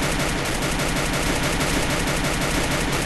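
Continuous, loud gunfire from a fight in the mobile battle-royale game Free Fire, with rapid overlapping shots and bursts that fill the whole stretch without a break and no voices.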